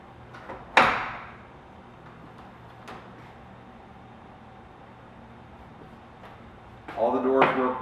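A sliding panoramic door panel closes with a sharp, loud swoosh and click near the start, followed by quiet room tone and another burst of handling noise and rattling toward the end.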